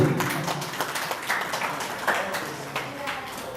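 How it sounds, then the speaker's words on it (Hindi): Audience at a gathering breaks into applause, a dense patter of many hands clapping at moderate volume, with scattered sharper claps standing out across the few seconds. "जोरदार तालियां हो।"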